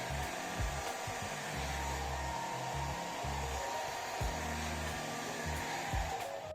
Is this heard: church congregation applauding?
no